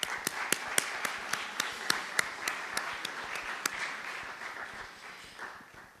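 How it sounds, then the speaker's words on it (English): An audience applauds at a talk on racism and antisemitism, a scattered crowd clapping steadily for several seconds with sharp individual claps standing out before the sound gradually thins and fades. "So I think BARD deserves a round of applause."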